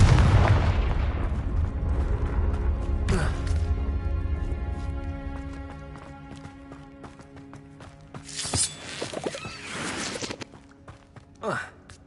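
A Confringo spell explosion from the Hogwarts Legacy video game bursts with a loud booming blast at the start, then a long rumbling decay, followed by later sharp, cracking bursts that fade into quieter ambience.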